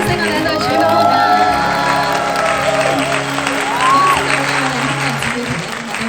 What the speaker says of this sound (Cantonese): 兄弟姊妹團一齊俾啲掌聲，我哋一對主角好嗎？